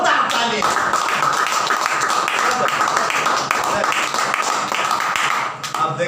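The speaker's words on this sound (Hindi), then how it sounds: "जोरदार ताली।" Church congregation breaks into loud, sustained applause, dense clapping from many hands close by that fades at the end.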